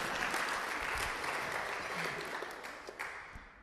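A wedding crowd applauds steadily, a dense wash of many hands clapping that tapers slightly toward the end.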